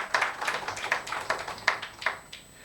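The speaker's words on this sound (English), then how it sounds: "I thought that this panel deserves an applause." Sparse applause from a small audience for a panel at a forum on citizen election observer rights in Africa: a handful of distinct, fairly even claps repeating at a steady rhythm, moderately close and without voices.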